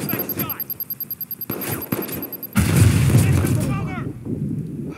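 Grenade blast in the video game Watch Dogs 2: rapid gunfire bursts give way to a loud, sudden boom that rumbles and fades, with an excited voice talking throughout.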